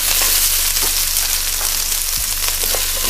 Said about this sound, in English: Another tablespoon of oil and put in the capsicum